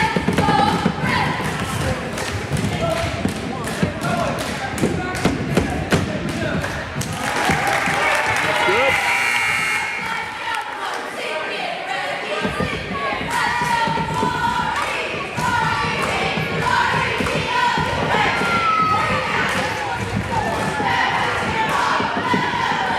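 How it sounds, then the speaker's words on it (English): Spectators at an eighth-grade boys' basketball game pound their feet on the bleachers in loud, rapid thuds. Crowd noise and cheering fill the gym, the stomping drops off briefly partway through, and voices are heard throughout. "Got people pounding their feet."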